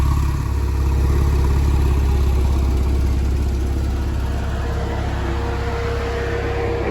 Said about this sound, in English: The engine purrs like a kitten.